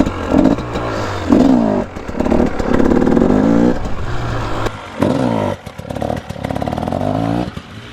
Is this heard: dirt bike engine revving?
yes